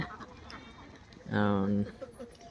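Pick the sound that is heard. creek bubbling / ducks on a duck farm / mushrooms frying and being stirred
ducks on a duck farm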